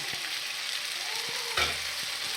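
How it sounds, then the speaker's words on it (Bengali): Pasta being stirred into chicken frying in a pan: a steady close sizzle with scraping stir strokes, including a louder scrape about two-thirds of the way through. "এবার পাস্তা দিয়ে দিচ্ছি। ভালো করে নাড়াচাড়া করে মিশিয়ে নেব।"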